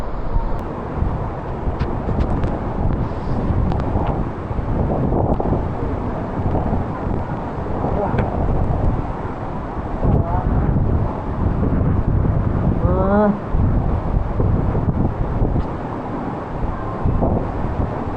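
Strong wind buffets the microphone on a mountain trail to waterfalls in Bukidnon, a steady roaring rush that swells and eases over the whole stretch with no talk.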